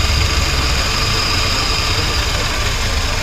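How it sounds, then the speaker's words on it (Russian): Car engine idling with the hood open at a car market in Konibodom, a steady low hum with an even hiss, close and constant, no talk. "Можно ставить звук этого мотора себе в качестве колыбельной и спать под нее, потому что прям шипит он, а не кряхтит"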